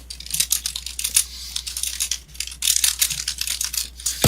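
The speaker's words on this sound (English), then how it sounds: "I can hear all of your typing." A computer keyboard clatters with rapid, steady typing throughout, the keystrokes close and fairly loud, with a brief pause midway and no voices.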